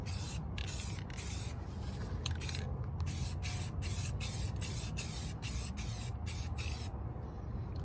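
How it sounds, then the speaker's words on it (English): Gloss black spray paint goes onto car rims in a series of short, close hissing bursts with brief gaps between them, each spray a light pass. "Give it light sprays."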